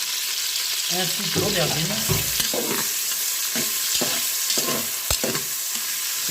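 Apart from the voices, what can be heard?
bell pepper and eggplant frying in a Cookeo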